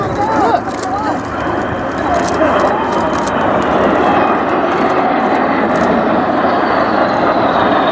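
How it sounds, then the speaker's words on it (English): A plane flies past at the Dunsfold Wings and Wheels airshow, its engine roar loud and steady throughout, with crowd noise and voices close by. "Look at this funny plane."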